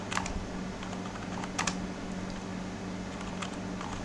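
Typing on a computer keyboard, a few quick clusters of light key clicks with pauses between, close by over a steady faint background hum.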